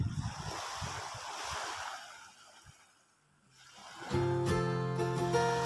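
Sea waves at Bangsal Beach in Sanur wash and hiss in broad rolling surges with some wind, fading briefly before a steady tonal hum takes over near the end.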